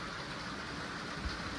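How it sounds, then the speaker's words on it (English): Heavy rain pours steadily outdoors, a dense, even hiss with no breaks and no voices. "the rain's really starting to pick up now."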